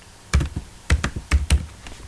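Short bursts of keystrokes on a computer keyboard, four clustered taps spaced across two seconds, close and fairly loud with quiet gaps between.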